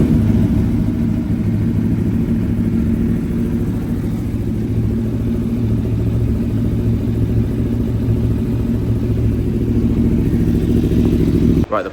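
An Aprilia Tuono motorcycle with an electrical short and a warning light runs close and loud with a steady, throbbing rumble. It holds constant throughout and cuts off abruptly at the very end.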